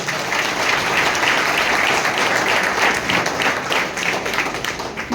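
Sustained applause from a seated audience at a Telugu speech event, steady and dense for about five seconds with no voices over it.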